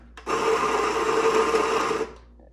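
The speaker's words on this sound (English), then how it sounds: "we'll grind a little bit of coffee here" A burst of coffee beans being ground for a Bialetti 3-cup Moka Express, a loud, steady whirring grind of about two seconds that starts and stops abruptly, heard alone.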